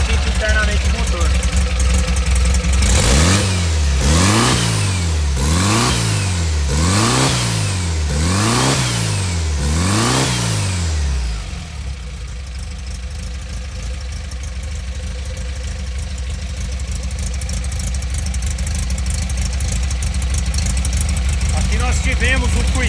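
Supercharged 1200 car engine revving in a series of about six rapid rises and falls, loud and close, then settling into a steady low idle with oil being drawn in through a hose.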